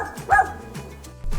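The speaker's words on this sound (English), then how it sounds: "it's a dog. Dogs say woof." A dog gives a single short bark, sharp and fairly close, followed by faint background noise.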